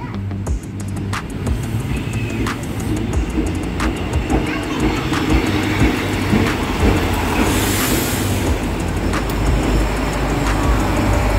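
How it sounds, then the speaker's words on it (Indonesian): A diesel train rumbles into a station steadily, with rhythmic clicks of wheels over rail joints and a brief hiss of brakes partway through. "Ini dia, kereta sudah tiba."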